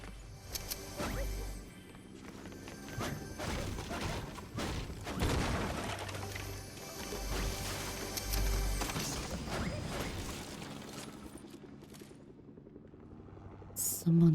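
A helicopter hovers in a video game, giving a steady rumble beneath bursts of in-game clatter and impacts. A player talks over it at times.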